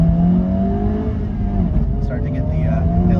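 A sports car in sport mode accelerates with a loud, continuous engine note whose tones climb and waver, close up throughout.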